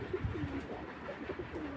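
Racing pigeons cooing close by in a loft, several soft rolling coos repeating through the moment over a low murmur of background noise.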